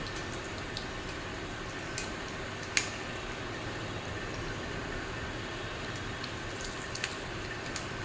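Ripe banana malpua pancakes fry in hot oil with a steady, even sizzle, dotted with a few sharp pops and crackles, close and moderately quiet with no talking.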